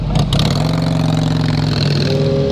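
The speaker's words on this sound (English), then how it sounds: "Sportster sounds great." A Harley-Davidson Sportster motorcycle engine revs loud and close, a steady throaty rumble with rising harmonic tones held throughout, no talking over it.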